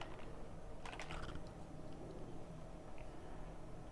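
Quick burst of keyboard typing on a computer while entering part names into a Proteus circuit simulation, a cluster of light clicks near the start over steady low hum, then mostly quiet.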